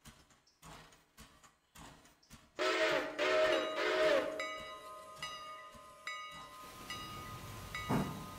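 Passenger train in the Railroader video game, moving with a steady rumble, a loud hissing burst of brakes or steam, then a long sustained whistle-like tone and clanks, with no talking.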